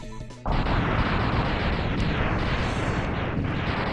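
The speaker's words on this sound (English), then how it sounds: "And there goes Storm Eagle. And I'm looking away from the explosion again." The boss Storm Eagle blowing up in the video game Mega Man X, bursting suddenly into a loud, sustained, noisy roar of explosions that continues steadily, with no talking.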